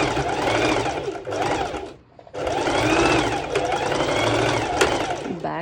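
A home sewing machine stitches through layered bikini fabric at a reduced stitch length, a close, loud, steady whirring drone that stops briefly near the middle and then resumes.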